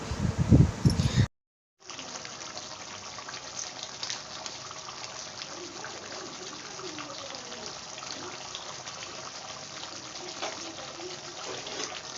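Water poured in small amounts into an egg curry simmering in a pan, a steady gushing, sizzling wash after a brief gap, close and continuous, with no voices.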